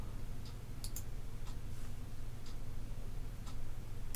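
Faint, evenly spaced clicks from a computer mouse sound roughly once a second over a quiet low hum, some of the clicks doubled.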